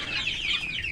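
Chickens clucking steadily throughout, a dense overlapping chatter of several hens close by with no pauses.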